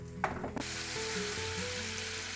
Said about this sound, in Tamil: இதை லேசாக எண்ணெயில் நாங்கள் பொரிச்செடுப்போம்